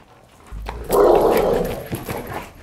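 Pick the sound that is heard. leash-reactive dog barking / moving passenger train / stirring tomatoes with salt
leash-reactive dog barking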